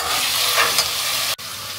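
Garlic frying in a pan while cooking ginisang monggo, a steady close hiss of sizzling oil with a brief stirring scrape and a momentary dropout near the end.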